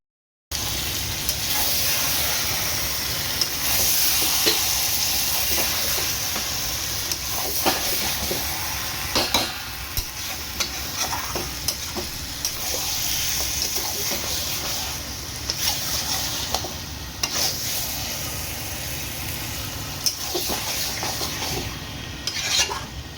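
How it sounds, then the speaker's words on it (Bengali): Mutton kosha stir-fried in a pan for a Holi meal: a steady sizzle and hiss with frequent scraping and clinking of a spatula against the pan, continuous and close. "জবরদস্ত চলছে এখানে মাটন কষা।"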